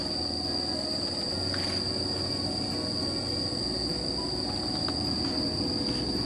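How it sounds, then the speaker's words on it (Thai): A train rumbles past at a distance along the Mekong riverbank, a steady low roll with faint wheel squeal, while insects chirp in a constant high whine. "โอ้เจ้านี่รถไฟ"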